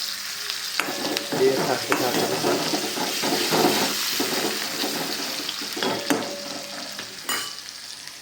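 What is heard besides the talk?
chillies and onion frying in a pan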